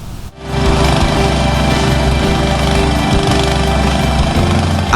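Well-drilling machine boring a water well at a disaster evacuation site in Tapanuli Selatan, running as a loud, steady mechanical roar with rattling, hammering texture and a constant low hum, starting abruptly after a brief quieter moment.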